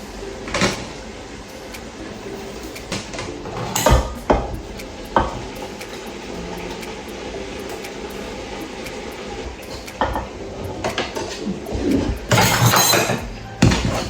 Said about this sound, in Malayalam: ഇനി നമുക്ക് റൈസ് ഒരു പകുതിയോളം ഇതിലോട്ട് ആഡ് ചെയ്ത് കൊടുക്കാം